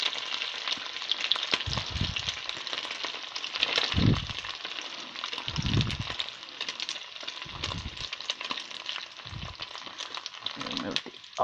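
Steady hiss of food frying in a pan of Singapore noodles with bok choy, loud and continuous, with occasional low stirring thumps and scrapes throughout.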